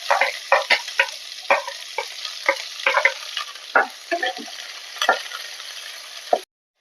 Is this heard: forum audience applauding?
no